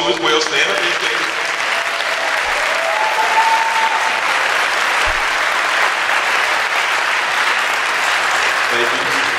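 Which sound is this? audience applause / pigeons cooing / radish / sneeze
audience applause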